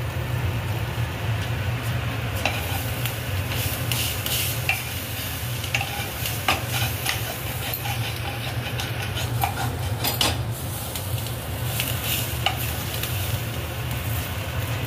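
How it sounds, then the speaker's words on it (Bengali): Cauliflower leaves frying in a pan, a steady broad sizzle running throughout with occasional light clinks and scraping of a utensil against the pan, close and even in loudness. "দেখুন ভাজাটা কেমন হচ্ছে"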